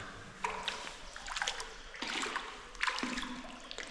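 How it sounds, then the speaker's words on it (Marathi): Water running and splashing at the Mhatara Mhasoba temple site near Ghatsawali, Beed, with steady rushing flow and a few louder surges throughout, no talk over it. "हे पाणी चाललं आहे इथून."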